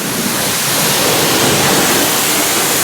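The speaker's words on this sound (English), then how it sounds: "giving the entire engine bay a thorough pre-rinse at pressure to remove the layer of loose dirt" Pressure washer jet rinsing the engine bay of a 100K-mile Volvo V40, a steady loud hiss of spraying water that holds constant throughout without pauses.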